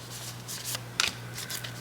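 Tarot cards being shuffled by hand, quiet papery riffles and slides in a few short bursts with one sharper snap, heard close in a calm room with no talk.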